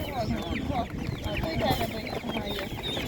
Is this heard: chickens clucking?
yes